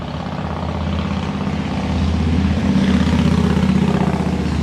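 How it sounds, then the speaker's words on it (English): Steady traffic on a main road just behind, a continuous low engine rumble of passing cars and trucks that swells slightly midway and holds fairly loud throughout. "It's like a main road right behind me."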